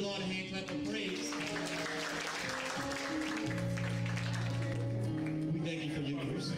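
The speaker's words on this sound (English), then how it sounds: "Give the Lord a hand clap of praise." A church congregation at a Sunday morning service claps hands in praise, a broad, continuous wash of applause blended with sustained organ or music tones and voices speaking over it.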